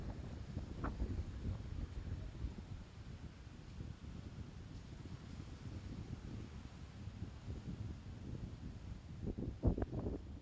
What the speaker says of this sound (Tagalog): sobrang lakas ng hangin sa tabing dagat